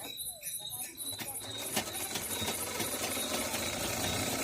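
A sewing machine stitches together the back and front pieces of a 12-inch katori blouse, starting with a few scattered mechanical clicks, then building into a continuous rapid rattling whir that holds steady to the end.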